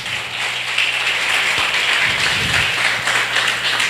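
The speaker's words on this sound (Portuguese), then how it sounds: "Quem está entendendo, aplauda o Senhor bem forte." Church congregation clapping together, a dense continuous patter of many hands at moderate loudness over a low room hum, with a few louder claps standing out.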